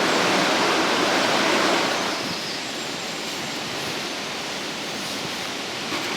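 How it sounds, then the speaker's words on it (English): Steady rushing of river water running beside a wild campsite, a loud continuous broadband wash that eases slightly after the first two seconds and then holds level, with no voices. "It's the sound of the river."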